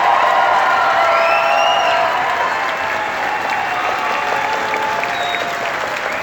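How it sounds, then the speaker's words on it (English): A giant concert crowd at Video Games Live in Saskatoon, Canada, breaks into loud, dense, sustained applause and cheering with scattered whoops and whistles, awaiting a live performance. "the crowd is going to go crazy"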